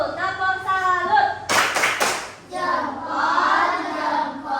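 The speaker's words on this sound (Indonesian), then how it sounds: "Beri kita tepuk salut dulu. Tepuk salut." A class gives a rhythmic tepuk salut clap, a short burst of claps from many children mid-clip, with speech and voices before and after.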